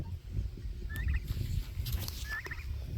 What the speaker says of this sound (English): I don't know if y'all remember the little baby turkeys, but this is them.